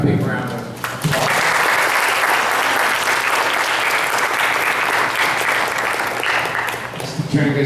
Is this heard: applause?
yes